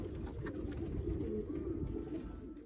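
Kashan pigeons with fish-scale patterned plumage coo in a low, continuous rolling murmur, several birds overlapping close by with no pauses.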